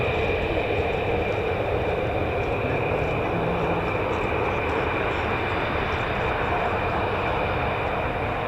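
At RAF Lakenheath, a USAF F-15 or F-35 fighter jet departs with a loud, steady jet roar that holds level throughout and stands alone, with no talk.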